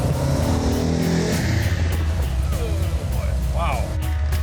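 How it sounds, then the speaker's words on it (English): A 1970 Dodge Challenger with a Comp Cam camshaft revving hard as it downshifts to second at about 50 mph, a loud continuous engine roar with rising and falling pitch, heard close from inside the car. "Okay, we're going to shift down to second, which is pretty fast right now."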